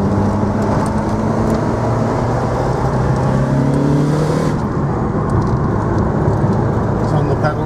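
A 1991 Lancia Delta HF Integrale 16V Evolution 4WD engine accelerating, a steady close drone with rising whine from inside the car, running continuously throughout, with someone talking over it.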